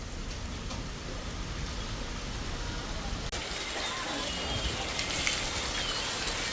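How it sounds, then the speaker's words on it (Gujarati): Steady rain hissing throughout at 6 a.m. on a road with a line of vehicles, a continuous wash of drops with a faint low rumble and a brief click midway. "ભાઈ વરસાદ ગરબડાટી બોલાવે છે."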